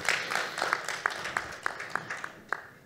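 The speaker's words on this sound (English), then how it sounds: "Donc je vous demande de l'accueillir et de l'applaudir." Faint, scattered hand claps in a steady rhythm, a few per second, from an audience welcoming a panelist at the MEDays 2022 forum. The claps stay thin and distant rather than building into full applause.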